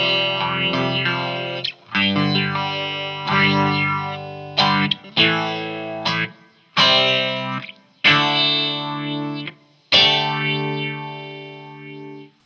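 Electric guitar run through the digital phaser of a Coolmusic modulator pedal, loud sustained chords struck about seven times with a sweeping, swirling phasey tone and distortion, each chord ringing out alone before the next.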